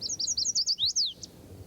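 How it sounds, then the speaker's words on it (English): Blackburnian warbler singing: a rapid series of thin, very high-pitched notes that rises into a sharp buzzy flourish, clear over faint background hiss. "We know the Blackburnian warbler as a summer resident of northern forest"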